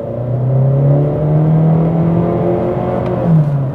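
A 2020 Honda CR-V with a 190-horsepower engine accelerates at full throttle, its engine note climbing steadily and droning loudly from close by, with a brief shift dip near the end and no talk.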